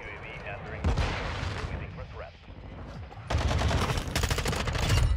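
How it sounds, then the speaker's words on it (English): Shotgun gunfire in Modern Warfare 2: bursts of loud gunshots, first a single heavy blast, then a dense run of rapid shots near the end, with excited voices talking over the action. "Dude, the damn shotgun is annoying"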